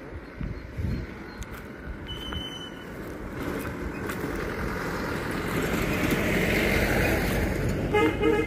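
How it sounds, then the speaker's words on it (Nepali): A vehicle on a rural hill road in Tanahun, Nepal, approaching with a rising engine rumble while its horn toots repeatedly, growing louder and closer toward the end, without talking. "यो मासतिर गिरकोटतिर आएको होला यो गाडी त"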